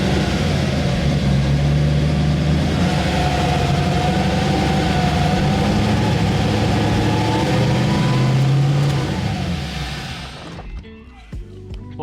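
A supercharged Nissan GT-R engine idles loudly and close, with a steady deep rumble and a slight throttle rise before the sound drops away near the end.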